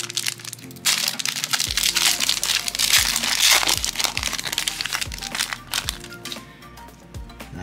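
Foil trading card pack being torn open and handled, a 2021 Origins football pack from a blaster box: loud, continuous crinkling and tearing of foil close up, with sharp crackles throughout and no talking.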